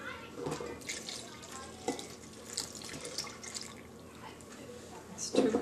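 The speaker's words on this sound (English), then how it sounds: "I'm going to add 3 cups of water" Water poured from a cup into a bowl of flour and sourdough starter for bread dough, a steady near trickle and splash with brief louder bursts toward the end.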